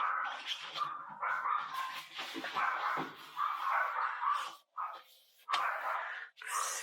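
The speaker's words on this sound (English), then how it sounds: "Excuse my barking dogs." Several dogs barking and yapping repeatedly at moderate distance, overlapping bursts with brief pauses, one dog whining between barks.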